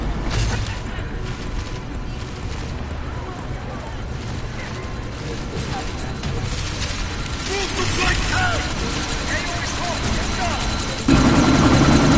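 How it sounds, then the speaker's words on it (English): A helicopter spools up for takeoff in Deus Ex: Mankind Divided, a loud, continuous rotor and engine roar with mechanical clatter beneath game voices, rising sharply in the final seconds. "That chopper's about to take off!"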